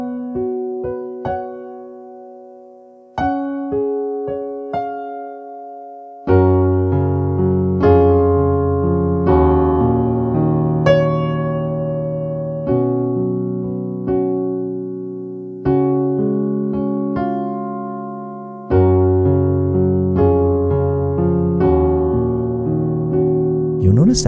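Solo piano plays the second verse of a song as an accompaniment, with sustained chords struck in a slow, steady rhythm that ring and decay between changes, close and clear with no talking.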